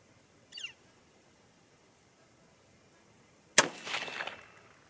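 A single rifle shot from a .243 Win or 6mm ARC firing 80-grain bullets cracks sharply out of near silence, then decays into a rolling echo.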